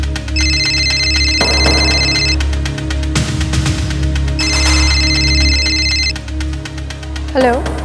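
A telephone rings in two electronic bursts over a background music bed, with dramatic sound hits between and a brief voice near the end.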